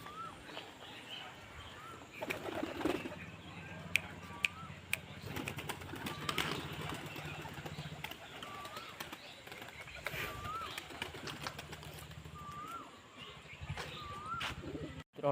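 Pigeons kept for breeding coo softly and repeatedly in their enclosure, with scattered chirps, scuffling and nearby human voices mixed in.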